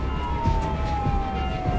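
A French ambulance siren drones steadily in the background over road rumble in the Burgundy countryside, with no voices.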